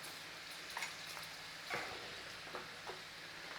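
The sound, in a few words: tofu frying in oil in a pan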